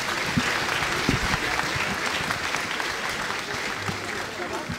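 An audience at a round-table forum applauds the speakers and panelists, a sustained, steady wash of clapping with a few voices faintly mixed in.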